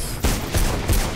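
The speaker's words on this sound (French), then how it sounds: "Et on va tuer un ennemi à l'arme pour vous faire plaisir." Gunfire in the video game Mirror's Edge as an enemy is shot: several heavy, booming shots in quick succession, loud and close, with no talking.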